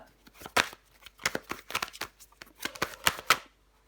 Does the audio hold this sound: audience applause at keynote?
no